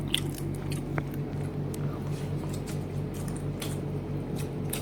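Close, steady chewing and biting of hilsa fish roe with rice, soft squishy mouth sounds repeating throughout over a faint low background hum.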